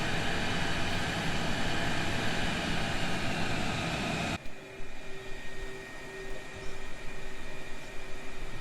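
An F-35 jet taxiing on the ground in a flight simulator, a loud broadband engine roar that cuts abruptly to a quieter whine with a steady tone, no voices.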